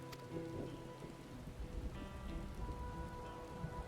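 Rain pours down in the video game Final Fantasy XIV Dawntrail, a close patter of drops with low thunder rumbling underneath, alongside soft tonal game ambience and no voices.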